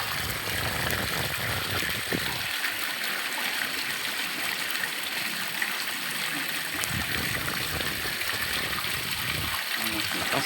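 Water gushes steadily from a newly installed submersible pump, a continuous broadband rushing flow that holds even and loud for the whole stretch, with people talking faintly underneath.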